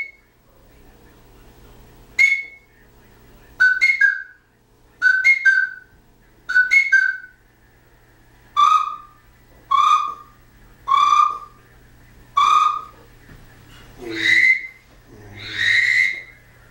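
A series of sharp dog training whistle blasts, some short and doubled, others longer and trilling, spaced a second or two apart and loud against quiet background.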